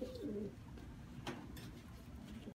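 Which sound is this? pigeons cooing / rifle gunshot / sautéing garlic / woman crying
pigeons cooing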